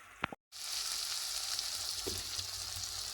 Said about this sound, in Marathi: अजून 1-2 मिनटं आपण कांदा आणि टोमॅटो छान शिजू देऊया.